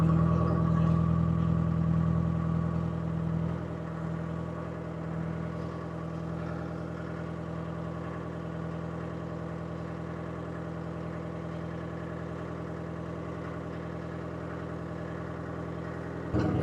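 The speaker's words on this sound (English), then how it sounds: "You can see how the 2-stroke 453 sounds." A two-stroke Detroit 453 diesel in a truck with a straight 4-inch exhaust pipe idles steadily. It starts louder, then settles into an even, close, continuous drone with no talk over it.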